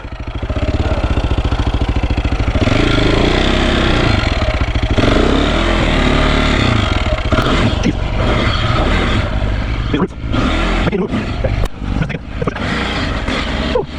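A 2001 KTM 400 dirt bike engine runs loud and close on a woods trail, a steady thrumming drone with some revving; sharp bumps and clatter break in near the end.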